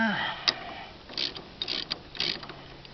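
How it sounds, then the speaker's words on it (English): A hand ratchet tightens a steering wheel puller on a Cub Cadet mower, giving a few quiet, scattered clicking strokes nearby. "I'm just going to do it with a ratchet."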